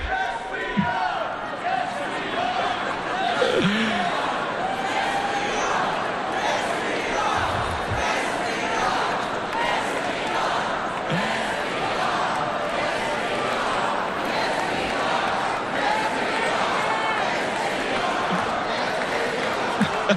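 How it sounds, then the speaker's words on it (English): A large crowd at the Republican National Convention cheers and chants in a sustained, loud, roaring wash of many voices that continues without a break, with occasional sharper shouts rising above it. "You guys are a great crowd."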